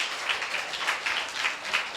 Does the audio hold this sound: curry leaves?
no